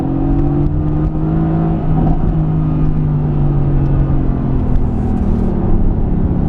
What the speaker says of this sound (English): if I drive this car in race mode, in automatic, this car calculates exactly my driving style to change gear